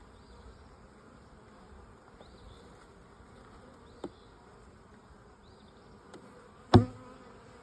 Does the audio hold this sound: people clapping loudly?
no